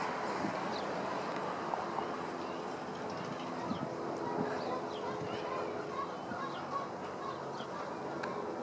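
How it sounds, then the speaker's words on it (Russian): Geese honk repeatedly at a distance over steady outdoor ambience in a spring residential neighborhood in Murray, Utah, with faint voices in the background. "Там гуси прям кричат так громко."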